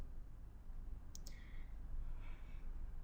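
A computer mouse gives two quick, faint clicks close together while a Pin It button is pressed, set against a steady low room hum.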